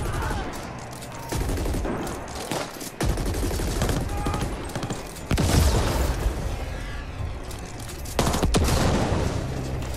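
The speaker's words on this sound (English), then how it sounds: "What are you shooting?" Gunfire in the video game The Ascent, dense bursts of rapid shots and booming blasts in a sustained loud firefight, close and continuous.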